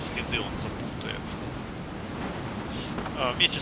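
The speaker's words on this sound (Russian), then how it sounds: "Вместе с пылью ветер яростно швыривает осколки камней и металла." In the video game Tyranny, wind blows dust along with shards of stone and metal. It makes a constant rough roar, and faint brief chimes and clinks show up near the start and again near the end.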